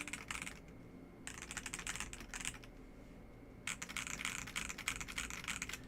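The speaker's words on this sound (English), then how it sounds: "maybe if you really, really, really like clack, then this is the keyboard for you" Fast, clacky typing on a MelGeek Real67 mechanical keyboard comes in three close, dense bursts separated by short pauses, the crisp key strikes heard alone without speech.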